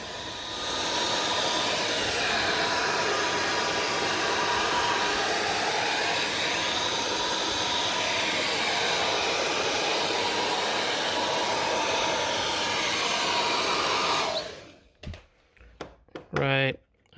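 A heat gun blows a steady, loud rush of hot air onto a Ralliart carbon decal on a Mitsubishi Evo X for about fourteen seconds, then cuts off, leaving a few brief handling noises.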